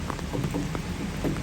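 Rain falls steadily during the rainy season in Aceh, a dense continuous patter with scattered drop impacts, moderately loud and close, with no voices.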